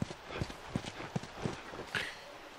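Steady clip-clop of a horse walking in The Last of Us, roughly three hoof strikes a second, close and distinct, with a brief brighter noise near the end and no voices.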